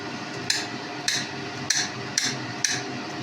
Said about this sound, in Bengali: এই যে কাটছি ছড়িয়ে